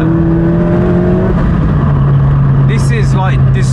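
A 300 hp S3-engined Mk2 Golf GTI driving, its engine droning as a steady low hum that shifts pitch partway through under road and wind noise, heard from inside the car with someone talking over it.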